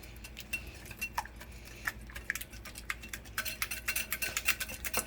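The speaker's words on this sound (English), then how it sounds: "I have 2 cracked eggs and 8 tablespoons of butter. I'm going to whisk it." Two cracked eggs and butter are whisked in a bowl for a plum cornmeal cake batter. Quick light clinking taps start sparse, then speed up into a dense, even rhythm near the end, with no speech.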